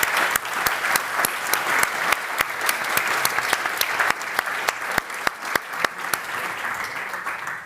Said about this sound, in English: Just a big, big applause.